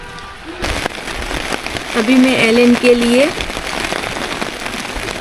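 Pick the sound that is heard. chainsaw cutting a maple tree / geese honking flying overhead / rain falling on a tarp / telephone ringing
rain falling on a tarp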